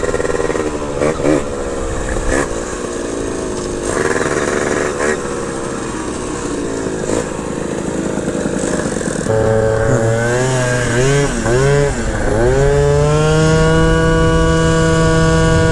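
Two-stroke mopeds, a geared Honda MB5 and a 120cc stroker Honda Elite, ride together nearby with buzzing engines that rise and fall as riders rev, then a sharp climbing rev near the end; a rider talks over the engine noise.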